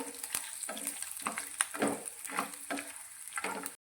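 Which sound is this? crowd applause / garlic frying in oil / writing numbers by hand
garlic frying in oil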